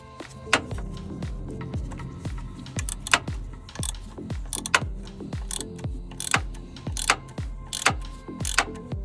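A 10mm socket on a ratchet wrench backs out a bolt on the drive belt tensioner of a 2007/2008 Honda Fit, making a quick, regular run of crisp, close metallic clicks.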